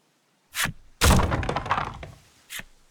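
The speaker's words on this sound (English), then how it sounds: "The sound of a wooden box tumbling to the ground rips through the grotto." A wooden box tumbles to the ground in a grotto in the video game Voice of Cards: The Forsaken Maiden, with a short knock, then a louder sustained clattering crash, and one final thud afterward.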